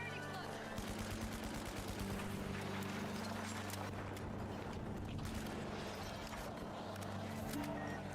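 Gunfire in The Finals video game: dense, continuous bursts of shots layered over steady game noise and music, moderately loud throughout.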